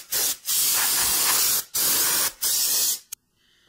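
Aerosol brake fluid cleaner sprayed onto the rear end of a Ford Mustang GT, four close, loud bursts of hissing spray with brief gaps between them, ending in quiet.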